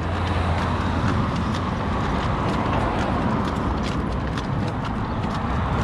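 Horses (mares) being ridden near Bata, Bistrița-Năsăud, Romania, clop along with a steady, rhythmic patter of hooves, close and continuous over a low outdoor background.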